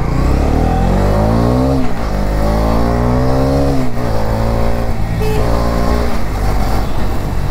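A Bajaj Dominar 250 motorcycle engine revs loudly up close, its pitch climbing and falling through several throttle blips over a rough, steady idle.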